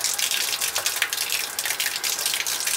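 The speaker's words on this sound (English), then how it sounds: "that loud noise, that's my RO" A reverse osmosis water filter system runs while filling an aquarium, giving a loud, hissing gush of water that churns steadily for a few seconds with small splashy fluctuations and no voices.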